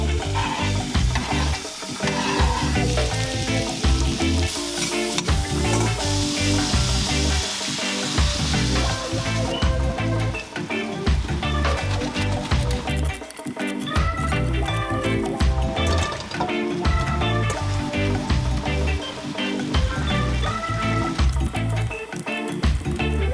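Onions fry in a single pan inside a camper van, giving a loud, continuous sizzle with frequent scraping and stirring clatter throughout, no voices over it.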